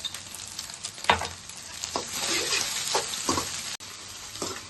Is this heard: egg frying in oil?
yes